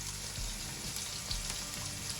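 Chopped onions and green chillies fry in a pan for an Andhra-style Nellore fish curry, a steady close sizzle with soft stirring scrapes and no voices.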